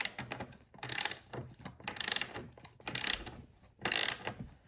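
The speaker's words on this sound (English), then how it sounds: "I've never used one of these. What is this? A socket? A ratchet?" A socket ratchet wrench clicks in four fast, loud bursts with short pauses between them while chairs are being reupholstered, and no one speaks.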